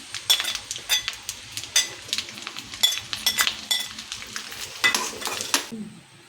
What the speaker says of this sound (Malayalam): ഏലക്ക പൊടിച്ചതും കൂടെ ചേർത്ത് നന്നായിട്ടിളക്കി